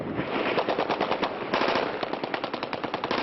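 Police open fire on two men in Macedonia in 2001. Rapid, sustained automatic gunfire rattles in quick repeated bursts throughout, slightly muffled and thin in tone, with no voices.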